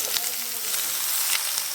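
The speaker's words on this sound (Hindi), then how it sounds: "आलू को ना थोड़ी देर इसमें ऐसे ही फ्राई करेंगे" Potatoes frying in a pan with oil, a continuous bright hissing sizzle, close and steady without any talking.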